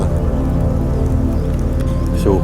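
Steady rain falls in a forest, a dense hiss of drops pattering on leaves and surfaces, close and continuous, with a low rumbling undertone throughout.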